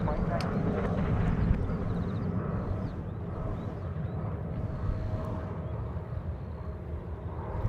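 An All Nippon Airways Boeing 787 departs runway 16 right at Sydney Airport, producing a broad, steady jet roar that stays loud throughout, with a low rumble and wind-like noise and no talking.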